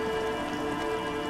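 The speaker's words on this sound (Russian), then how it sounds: "Диско Элизиум продолжает поливать нас дождем." Steady rainfall in the video game Disco Elysium, a soft even hiss of falling drops over a faint tonal hum, continuous and without voices.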